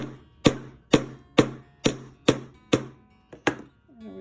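A hammer whacks wire for crystal jewelry in eight evenly spaced, sharp metallic strikes, close and loud, each ringing briefly before the next blow.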